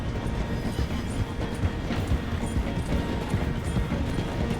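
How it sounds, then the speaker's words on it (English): Steam train slowing down to pass through a station in a Wild West video game, a continuous rumbling roll with faint rhythmic clatter from the carriages, steady and fairly close, with no talking. "The train is slowing down to go through the station."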